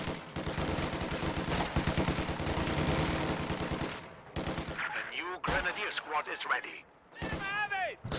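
Company of Heroes 2 grenadiers and riflemen trade sustained rifle and machine-gun fire in a dense, loud barrage, later thinning into scattered shots and whooshing effects while a commentator talks over the battle.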